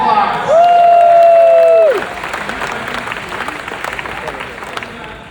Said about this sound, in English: Senator Nick DeSigley, everybody, give him a round of applause.